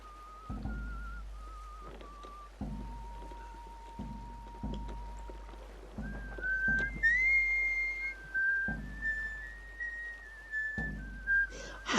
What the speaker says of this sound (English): Here's Automatic's character whistling this song.